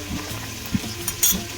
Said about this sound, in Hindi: थोड़ा सा 5 मिनट के लिए इसको भूनती हूँ लहसुन को।